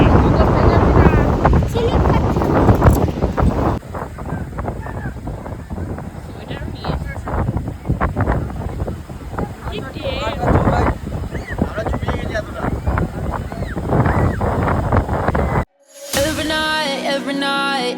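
Strong wind at the seaside in Puri buffets the microphone in loud continuous gusts, with people talking over it and a brief burst of music near the end.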